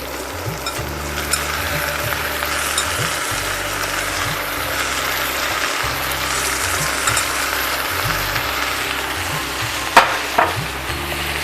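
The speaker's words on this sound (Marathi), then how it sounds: "तांदूळ ना आपण छान असे परतून घेऊया" Soaked rice stirred and sautéed in a pan for a Maharashtrian chana khichdi, a steady sizzle with repeated scraping strokes, a low droning hum running underneath and a couple of sharper clinks near the end.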